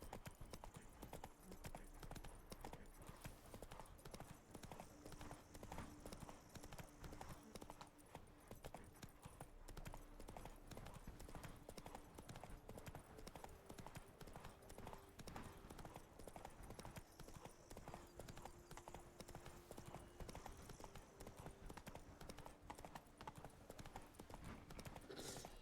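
Horse galloping in The Witcher 3: Blood and Wine, a continuous rapid clip-clop of hooves throughout, steady and fairly loud against ambient game sound, with occasional faint whinny-like tones.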